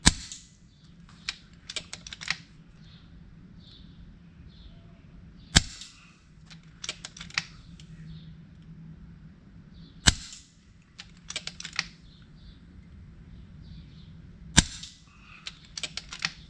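An FX Impact M3 air rifle fires at a bottle cap 40 yards away, sharp isolated cracks every few seconds, each followed by fainter clicks of cocking and reloading, alone in a quiet outdoor setting.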